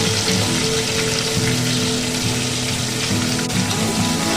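Chopped onion and tomato frying in a pan over low flame, a steady close sizzle with a watery hiss that runs evenly throughout, no voices.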